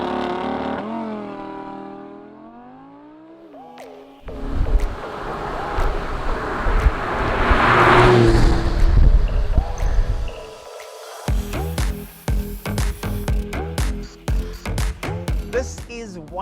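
An Audi R8 Spyder's V10 engine roars loudly, rising to a sustained rev before a run of sharp, stuttering bursts; a voice is heard briefly before it.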